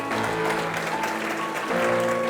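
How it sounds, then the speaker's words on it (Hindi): A church congregation applauds for Jesus during a sermon, the clapping moderate and somewhat distant, blended with sustained musical tones playing underneath. "जोरदार ताली यीशु को दे"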